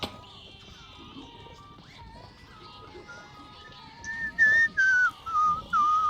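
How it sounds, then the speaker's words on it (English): A person whistles a tune in clear, sustained notes that start partway through and grow loud and close, over faint game sounds. "Some brilliant whistling from me while I listen to my tunage"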